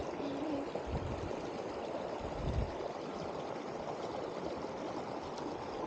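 A small village stream flows with a steady, close rushing and gurgling of water, with a couple of faint low thumps and no voices.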